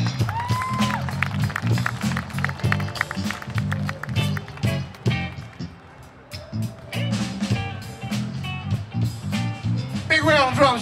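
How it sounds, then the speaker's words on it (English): An audience at an outdoor park blues show applauds and cheers for the drummer, scattered clapping under someone talking over the crowd. "how about a big round of applause for my uncle, Big Ray on the drums"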